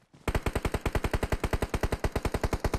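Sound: gunfire in the video game PUBG Mobile

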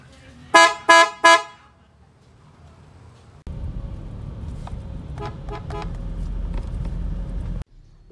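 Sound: PIAA Superior Bass Horn honking on a Toyota Fortuner

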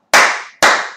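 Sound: champagne clap, clapping with a pop

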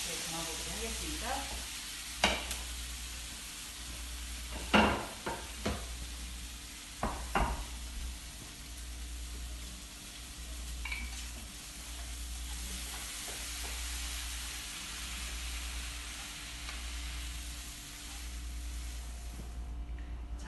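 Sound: spicy squid stir-fry sizzling while being stirred in a pan

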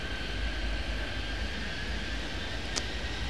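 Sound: airplane landing in Airport Madness 3D video game

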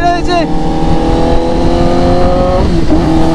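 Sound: Kawasaki Z900 motorcycle engine revving

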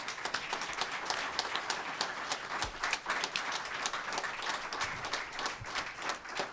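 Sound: audience applause at a reception

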